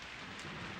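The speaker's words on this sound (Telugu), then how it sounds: "వర్షం" Rain pours down in a brief, unbroken, dense hiss during a stormy night, with no voices.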